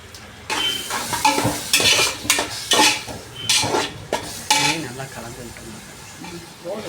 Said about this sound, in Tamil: இதையும் நல்லா மிக்ஸ் பண்ணி விடுங்க